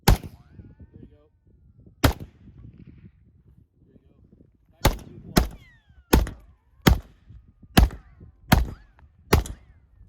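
AK rifle fired at targets, two rounds per target: loud sharp gunshots, a couple of spaced single shots, then a rapid paired sequence of reports, with faint talk in between.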